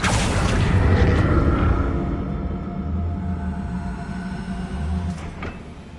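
A spell explosion in a Hogwarts video game makes a loud, sustained booming rumble that slowly fades, with a faint clank near the end and no voices.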